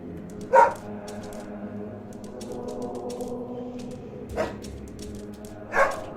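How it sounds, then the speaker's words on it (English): Three short dog barks in the video game Helltown, spaced apart and fairly close, each a brief burst over a steady low ambient drone with no talking. "There's a certain order I need to bark at these. And I barked, and thus there was light."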